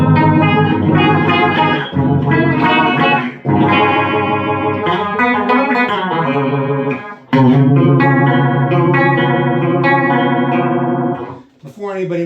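Electric guitar chords ring out through a phaser pedal's swirling, sweeping modulation, played loud and continuous with brief pauses between phrases.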